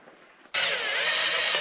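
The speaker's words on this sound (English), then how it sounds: "this is a left-handed drill bit" A power drill with a left-handed bit, run in reverse to drill out a stop on a 1939 Caterpillar D4 crawler tractor, starts abruptly and whines steadily, loud and close, with no talk over it.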